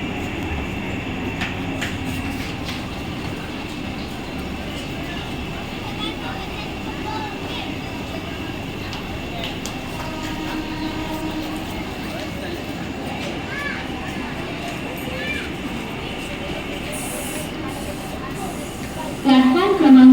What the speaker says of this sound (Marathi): प्लॅटफॉर्म क्रमांक 2 पर आई हुई लोकल 6:38 की मुंबई छत्रपति शिवाजी महाराज टर्मिनस जाने वाली ही लोकल है।